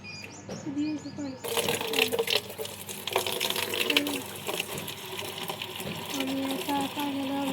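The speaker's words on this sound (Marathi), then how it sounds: "पाणी आता जारमध्ये भरायला चालू केलेलं आहे" Water gushing from a filter tap into jars at a filling station, a steady rushing flow under machine hum, with tonal beeps and scattered clatter and some background voices.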